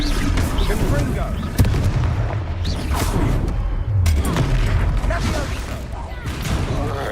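Confringo fire spell explosions in the video game Hogwarts Legacy, a dense, continuous barrage of loud booms and bursts over combat noise, with a voice shouting spell names throughout.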